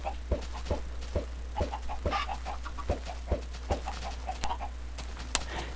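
Soft, scattered clucks from several Minecraft chickens, irregular and fairly quiet over a low steady hum, with sharp little ticks between them.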